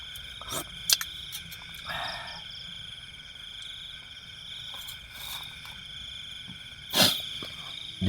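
Crickets chirp in a steady, high-pitched chorus through the night at a quiet campsite, with a few brief nearby knocks and rustles standing out against it.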